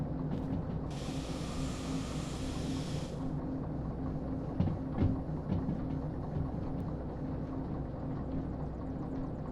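A train runs in the railway game Derail Valley, a steady mechanical rumble with a whirring hum, a brief higher hiss near the start and a few knocks midway, with no voices.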